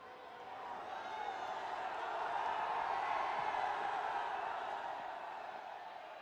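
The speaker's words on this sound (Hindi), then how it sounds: "आप सबकी तालियों के साथ।" Audience at a large public event in Kashi breaks into sustained applause that swells and holds as a dense, distant wash of clapping and crowd noise.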